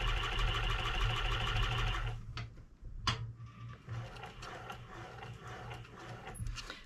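Sewing machine stitching thick thread through fur for a hunting muff, a loud steady mechanical whir that runs continuously for about two seconds, then stops, followed by fainter handling clatter and brief intermittent machine noise.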